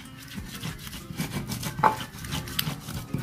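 Small washed shrimp being ground into a paste for a home-style Indonesian stir-fry: steady, rhythmic rubbing and grinding strokes, close and moderately soft, with a brief sharper knock partway through.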